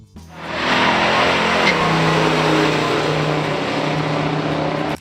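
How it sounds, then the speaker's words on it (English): A 1970 Buick GSX Stage 1 muscle car engine revs and accelerates hard, a loud, sustained roar heard close up with no talking. "1970 Buick GSX Stage 1."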